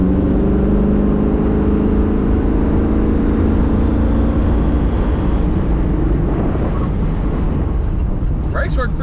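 An old car's big-block engine revs hard and accelerates, a loud, continuous roar and whir that stays close throughout the whole stretch, with the pitch shifting as the engine climbs.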